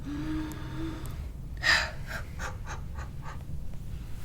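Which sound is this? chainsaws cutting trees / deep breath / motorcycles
deep breath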